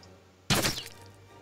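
A single sharp impact strikes a harpy in the Realms of Arkania video game, a sudden crack-and-thunk that decays quickly into a faint ringing tail over a low steady hum.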